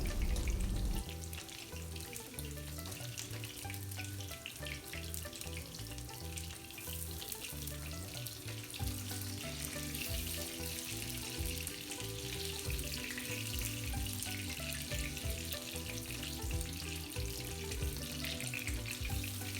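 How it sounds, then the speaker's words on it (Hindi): Minced meat kebabs frying on high heat and being turned one by one, giving a steady dense sizzle that runs throughout at fairly even loudness, close up. "इसी तरह से बारी बारी हम इसको अलट पलट करके फ्राई करेंगे"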